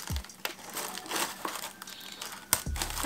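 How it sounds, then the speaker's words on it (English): Packaging paper crinkles and crumples as it is folded over to ship acrylic pieces, a steady close rustling with a few sharper crackles and a soft knock near the end. "So now I'm just gonna fold this over."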